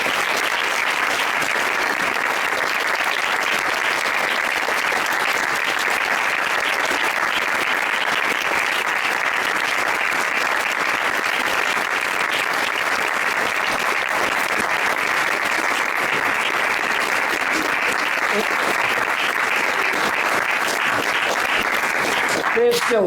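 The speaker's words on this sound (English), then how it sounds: "They're still clapping because Athena held up the," A lecture audience gives sustained, dense applause after a talk on character, a loud continuous wash of many hands clapping without a break for over twenty seconds.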